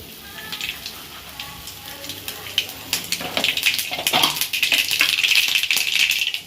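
Mustard seeds, cumin and curry leaves crackle and sizzle in hot oil, starting quietly and growing into a dense, popping spatter.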